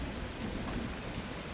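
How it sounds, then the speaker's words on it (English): Steady rain pours through a night scene in The Last Caretaker, a dense continuous hiss with low rumbling underneath, even and unbroken for the whole short stretch, with no voices. "it's nighttime and it's raining"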